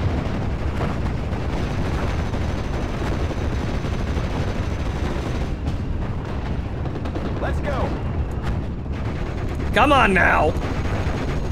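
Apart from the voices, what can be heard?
artillery and gunfire in the video game Steel Division Normandy 44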